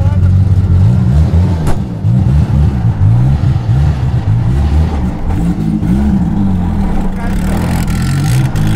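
A Volkswagen Gol fitted with a Spool locking differential roars loudly with a hard-working engine, its pitch rising and falling in repeated revving sweeps close by, the tone continuous throughout.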